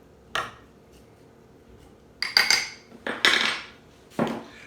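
A spoon clinking and scraping against a bowl while dried fruit is stirred with mixed spice, several bright metallic taps and clatters in short bursts, close up with no talking.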